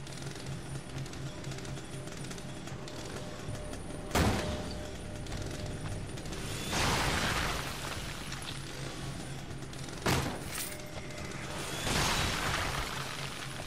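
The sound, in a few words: chainsaw attack in the video game The Evil Within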